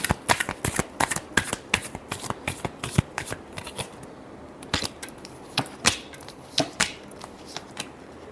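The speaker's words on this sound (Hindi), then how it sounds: "Last shuffle." Tarot cards shuffled by hand in quick riffling bursts, a rapid run of crisp flutters and slaps followed by a looser, slower series of separate card snaps, close and clear with no speech.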